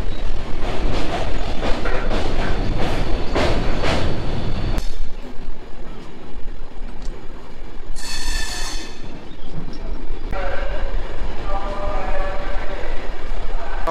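A passenger train running from Kolkata toward Siliguri past small tea gardens, loud continuous rumble with rhythmic clatter early on, then a brief high horn or whistle blast and a fainter tone later, heard from inside the moving train.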